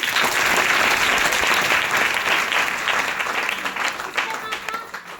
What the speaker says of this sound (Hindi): आप लोग के लिए जोरदार ताली